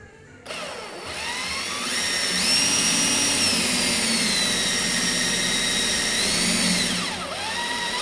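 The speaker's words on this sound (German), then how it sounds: "dass uns der Bohrer da nicht abhaut" A power drill whines at high speed for several seconds boring through metal on a Fritzmeier M210 cab for a Kramer KL300, its pitch wavering slightly under load, close and loud, then winds down.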